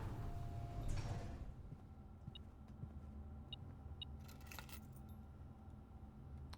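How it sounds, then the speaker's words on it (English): A spare set of car keys jangling in Blue Prince, a faint metallic rattle near the start followed by a few small bright clinks, set against a low quiet room tone. "A spare set of car keys."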